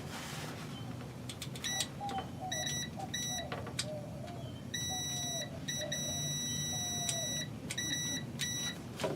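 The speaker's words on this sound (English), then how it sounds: "Turn this to continuity or ohms. Should be able to just touch this one to it." A multimeter set to continuity beeps while probing a failed block heater on a 6.5 diesel Chevy, giving a series of bright electronic tones, some short chirps and some sustained, over a steady background rumble.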